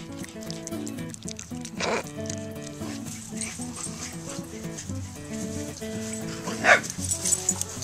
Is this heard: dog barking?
yes